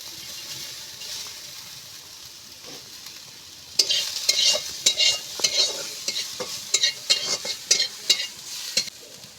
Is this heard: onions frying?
yes